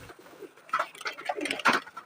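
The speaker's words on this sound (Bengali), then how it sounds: "উপরে 2-4টা কবুতর এখন আছে" Several domestic pigeons in a home loft cooing nearby, a few soft throaty calls that rise and fall in irregular bursts over a quiet background, with no talk.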